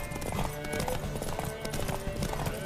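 Horse hooves clip-clop quickly in a galloping race in the video game Witcher 3, a fast rhythmic drumming under faint game voices and background noise.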